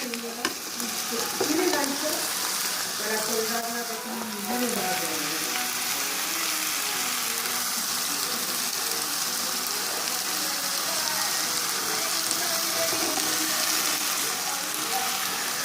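Kaynana dili pastries frying with onions in a pan, a steady close sizzle with stirring clatter near the start, continuous and alone throughout.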